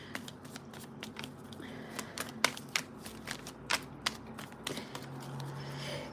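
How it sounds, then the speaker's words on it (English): Tarot cards being shuffled in the hands, a run of quick papery riffles and soft slaps with a few sharper snaps, close and moderately quiet with no talking. "we'll just give this deck another shuffle"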